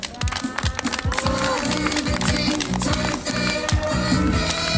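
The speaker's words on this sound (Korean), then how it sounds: "박수 한번 주십시오." Outdoor candlelight rally crowd applauding a speaker, dense clapping and cheering mixed with crowd noise and a loudspeaker voice, loud and continuous.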